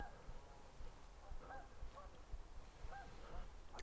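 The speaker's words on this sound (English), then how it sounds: "we have some geese down in Loch Venacher and they're making quite a racket" Geese honking on Loch Venachar, repeated distant calls in small bursts over a low outdoor rumble, faint and far off.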